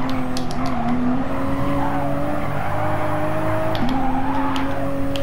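A Toyota GR Supra RZ races around Mount Panorama in a driving game, its engine droning steadily and loud up close with a sustained whine and brief gear-shift dips, no voices.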